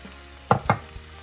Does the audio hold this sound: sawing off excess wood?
no